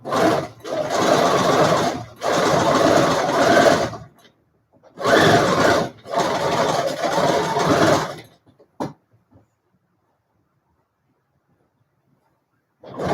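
A sewing machine stitches a fabric mask in four loud, close bursts of steady whirring separated by short pauses, followed by a few clicks and then near silence.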